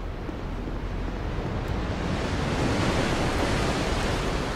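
Steady roar of sea waves washing far below in Dark Souls 2, a continuous broadband surf wash with gentle swells and no voices.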